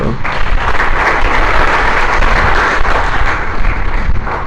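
A congregation claps loudly and continuously, dense close applause filling the space without any speech over it.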